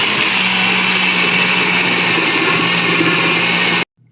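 A loud blender whirs steadily at high speed for several seconds, blending chocolate ice cream cake ingredients, then cuts off abruptly near the end.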